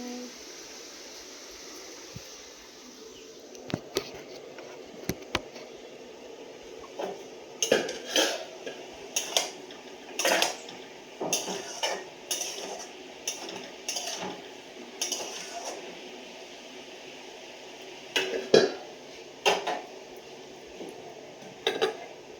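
Home cooking at lunchtime: pots, pans and cutlery clatter and clink in irregular bursts, near and fairly loud, with quiet stretches in between.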